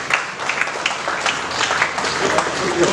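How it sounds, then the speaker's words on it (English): A room of students at a BBA orientation event applauds a guest, a dense wash of clapping at moderate loudness that continues steadily through the moment. "Let's have a huge round of applause for our guest"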